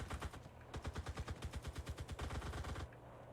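Sustained automatic gunfire in a battle royale video game, a long rattling stream of rapid, evenly spaced shots lasting several seconds before cutting off, close and prominent with no voices.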